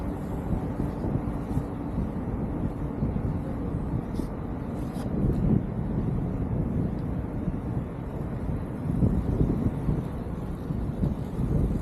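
Wind rushes steadily across the microphone at the Jeddah F1 Circuit, a low, continuous roar that swells slightly in a few gusts.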